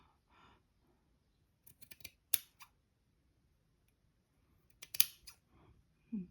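Quiet scissor snips in a few short clusters, crisp and close, with silence between bursts.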